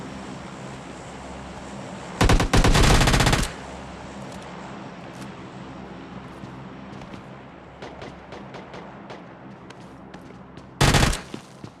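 Automatic gunfire in PUBG Lite, two sharp bursts of rapid shots, the first longer and the second short near the end, loud over a steady ambient game background.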